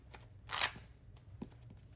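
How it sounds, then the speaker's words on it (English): Tarot cards being shuffled, a soft papery riffle swelling to a brief louder burst, then a few lighter card taps and flicks at close range over quiet room tone. "Shuffle some more."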